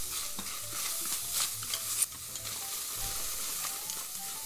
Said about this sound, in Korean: 여기다가 중불 내놓고 마늘하고 양파 볶는데요 바로 참기름 넣을 겁니다